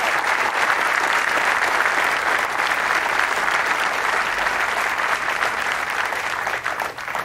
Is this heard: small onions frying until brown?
no